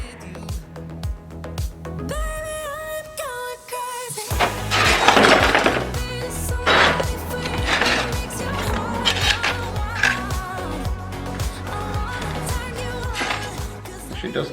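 A hammer smashes the glass out of a frame during a small-bedroom makeover, with a burst of breaking and crunching glass, then scattered clattering and knocking. A tone and music run underneath, and people talk.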